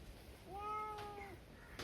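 A cat waiting for fresh sardines being cut gives a single drawn-out rising and falling meow, faint and fairly close, against a quiet background.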